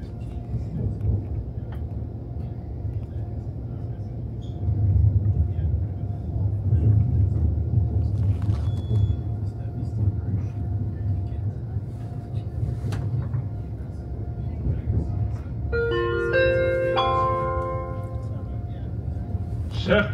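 Low, steady rumble inside a moving Eurostar train carriage, with faint clatter, followed near the end by a rising multi-note chime.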